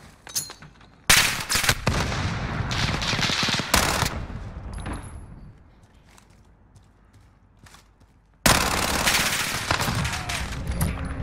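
Bursts of video game gunfire, including heavy automatic fire, crack loudly in the game's soundscape: a dense barrage for a few seconds, a quieter lull, then another sustained loud burst.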